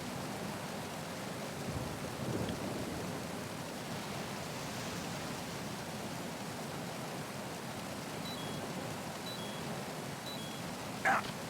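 Heavy rain and thunderstorm ambience over a river in the video game Metal Gear Solid 2, a dense steady hiss of downpour with low rumbling swells, plus a brief sharp sound near the end.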